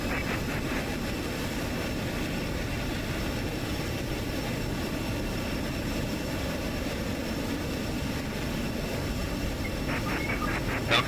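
A fighter jet engine from a fighter squadron runs steadily at high power, a continuous loud broadband roar with a faint steady whine, holding unchanged throughout without any audible drop to idle.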